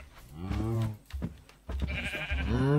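Cows in a modded video game, their low drawn-out moos and bleats repeating close by, with someone talking over and between them.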